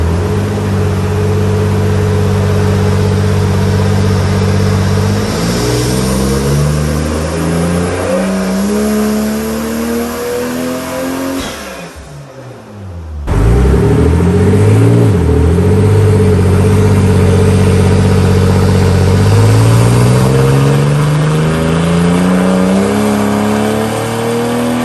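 A JZA80 Toyota Supra with hybrid twin turbos roars on a dyno, the engine note climbing steadily under load and then dropping off briefly before a second loud pull winds up high again.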